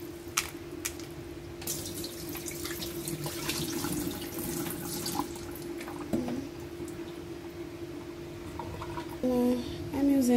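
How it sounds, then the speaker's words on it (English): Tap water runs steadily into a sink while seasoning vegetables for a fish stuffing are washed beneath it, a continuous close splashing rush lasting throughout with small clinks and a brief louder surge near the end. "Now I am washing my seasoning for my stuffings."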